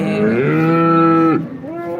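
A cow lows at a cattle market, one loud close moo swelling and holding steady before dropping off, followed by a brief fainter second call.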